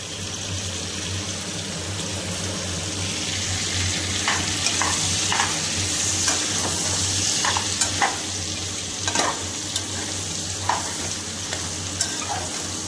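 Salt, turmeric and chili powder fry in a pan for talakaya curry, a steady sizzle with a faint hum beneath it and scattered crackles and stirring scrapes through the middle and end.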